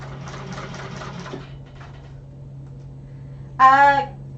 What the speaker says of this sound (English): this is going to go straight across and secure the bottom of those strap connectors. Make sure my stitches are good.